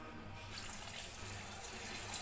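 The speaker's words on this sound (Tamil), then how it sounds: "தண்ணி கொஞ்சமாக ஊற்றிக்கலாம்." Water pours steadily onto soybeans in a container before grinding, a close, continuous splashing stream that grows slightly fuller as it runs.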